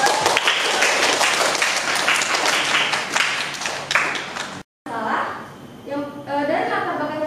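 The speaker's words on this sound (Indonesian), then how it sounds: "Kita kasih aplaus dulu untuk" An audience at an exam session claps in dense, broad applause for several seconds, which cuts off abruptly, followed by indistinct talking and room noise.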